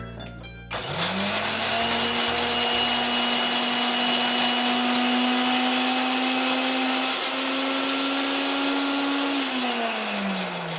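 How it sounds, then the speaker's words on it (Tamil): Mixer grinder grinding soaked lentils into a coarse paste, a loud steady motor whine with rough churning that holds for about ten seconds after starting, then winds down near the end. "பருப்பையும் நல்லா அரைச்சி"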